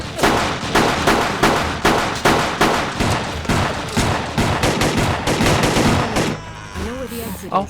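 Rapid, punchy gunfire bursts from the video game ÜberSoldier repeat in a steady rhythm, loud and close, then cut off, leaving quieter game sounds at the end.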